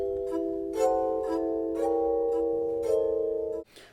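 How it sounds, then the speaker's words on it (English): A moistened finger circling the rim of a glass produces a sustained ringing tone, swelling and fading in slow pulses for several seconds before stopping abruptly, with no speech. "the sound that you get when you moisten your finger and run it around the rim of a"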